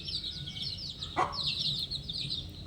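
Chickens and young chicks at a poultry farm, a busy layer of close high peeping with a brief louder cluck in the middle, over a low background hum.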